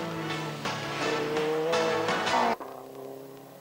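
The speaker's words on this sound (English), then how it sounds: "the Group N Sierra Cosworth 3-door car, rear-wheel drive, something approaching 300 brake horsepower being put through those 2 rear pin" Group N Ford Sierra Cosworth 3-door rear-wheel-drive rally car, near 300 bhp, roars close by with rising engine revs and tire squeal, then the sound drops sharply as it passes.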